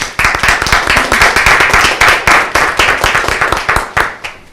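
Steady applause from a crowd, dense overlapping hand claps that carry on evenly and then taper off at the end.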